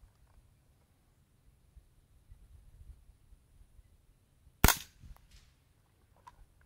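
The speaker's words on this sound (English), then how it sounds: "the subcaliber device, shooting the subsonic 750 feet per second, 22 rounds, they're quiet" A Colt AR-15 Sporter II carbine fitted with a subcaliber device fires one subsonic .22LR round, a single sharp, fairly quiet crack standing out from a low, faint background.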